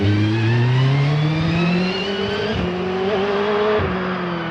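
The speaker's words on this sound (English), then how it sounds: "Sandra is away in that 4-litre V8 Judd-powered car" A 4-litre V8 Judd-powered hillclimb race car accelerates hard at Prescott, its loud engine note climbing through the gears with clean shifts and tire noise, close and unbroken by talk.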